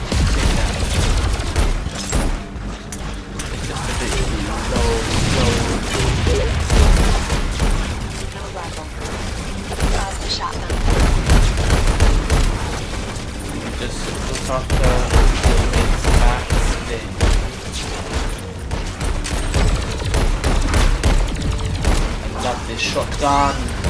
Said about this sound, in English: Gonna get the rocket launcher out.